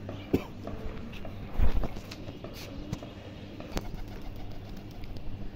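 Pigeons coo softly while pecking at scattered feed, with brief wing flaps, shuffling and a voice speaking now and then.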